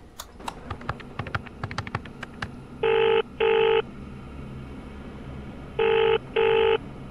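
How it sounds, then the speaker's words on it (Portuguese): A telephone in a horror game rings twice in paired electronic bursts, loud and close, following a flurry of sharp clicks and taps. "Oh, oh, tá aqui o telefone."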